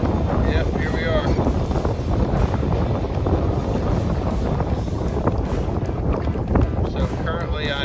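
Strong wind buffeting the microphone and choppy water slapping around a fishing kayak on open water, a loud, steady rushing roar throughout.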